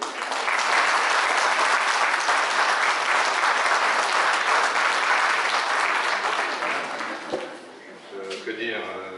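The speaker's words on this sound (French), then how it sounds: "Merci pour lui, vous pouvez applaudir" Sustained applause from a room of colleagues at Thierry's farewell gathering, dense and steady for about seven seconds, then thinning into scattered claps as a voice starts to speak.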